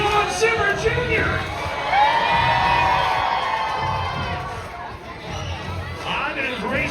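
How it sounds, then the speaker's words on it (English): Crowd at a monster truck show cheers, whoops and shouts, children's voices prominent, rising in bursts and swells over nearly seven seconds, with a loudspeaker voice cutting in near the end. "How many kids are out there cheering for John Zimmer Jr.?"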